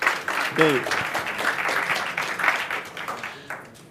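Audience applause for a speaker at a Python programming conference talk on an open-source IDE, steady broadband clapping across the whole stretch, with a brief spoken word rising over it early on.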